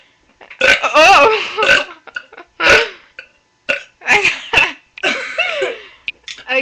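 A woman lets out several loud, drawn-out burps close to the mic, in bursts with short gaps between them, and a brief exclamation is heard among them.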